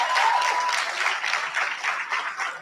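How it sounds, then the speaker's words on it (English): Audience at a school board meeting applauds the uniformed field hockey team headed to the state tournament, dense steady clapping throughout. "give them a round of applause for that."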